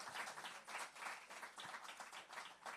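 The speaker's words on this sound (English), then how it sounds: "So give her another round of applause." Faint applause for a poetry and song competition awardee at an awards ceremony swells and dips in soft waves of clapping, distant and low in level.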